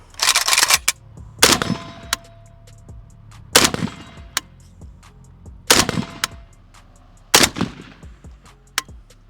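A Red Star BSR47 Bulgarian rifle fires five sharp, loud shots at a steady interval of roughly every one and a half seconds, each followed by a brief ringing decay.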